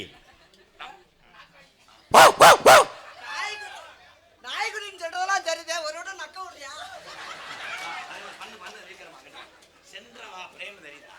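A person imitates a puppy with three quick, loud, high yelps, followed by people talking and chuckling.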